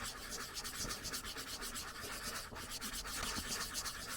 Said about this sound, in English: So basically, I just start sanding.